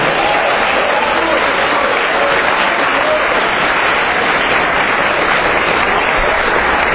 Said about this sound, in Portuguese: aplauda o Senhor mais uma vez nessa manhã.